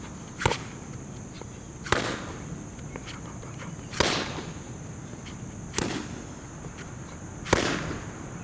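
Five sharp punches strike a training pad, spaced roughly two seconds apart, each a crisp loud smack over low room noise during a boxing lesson on hooks, elbows and rabbit punches.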